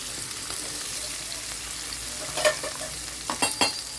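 Chopped onions frying in oil in a kadai, giving a soft steady sizzle with a few clinks and scrapes of stirring toward the end and no one talking.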